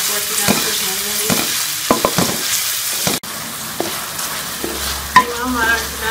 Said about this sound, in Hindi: चिकन का कलर चेंज होने तक चिकन को अच्छी तरह से भून लेंगे।